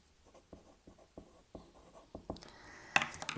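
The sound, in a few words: writing on a board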